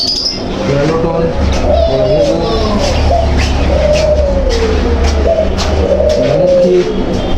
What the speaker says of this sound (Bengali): কী পাখি আছে